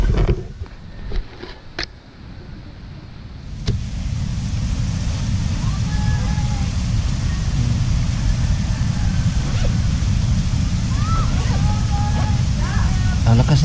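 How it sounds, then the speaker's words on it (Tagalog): Strong wind gusting along a seashore blows steadily into the microphone as a low roar, with distant surf beneath it after a brief quieter opening. "Lakas ng hangin ito."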